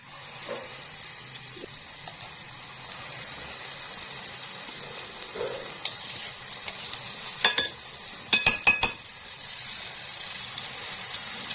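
Dahi bara batter spooned into hot oil, a steady soft sizzle and bubbling with a few clinks of a spoon against the pan near the end, close and moderately loud.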